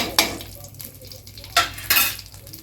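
Curry leaves are stirred and fried in a pan, and a spoon scrapes and clinks against the metal in a few sharp bursts. A soft, quiet sizzle runs underneath, close up and with no voices.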